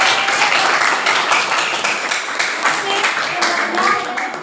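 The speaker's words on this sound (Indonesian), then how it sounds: "kita beri aplaus untuk kelompok B" An audience claps steadily for a student group at a school presentation on environmental change, a dense, continuous round of applause close by.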